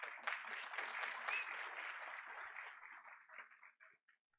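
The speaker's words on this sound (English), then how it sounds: "Let's give her a round of applause." Applause at a school board of education meeting honoring a staff member, heard as fairly faint, steady clapping that tapers off and stops near the end.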